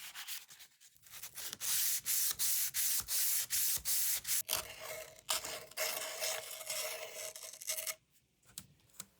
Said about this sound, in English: I'm just using a little bit of 600 grit on a foam pad to knock back any little bits of fuzzies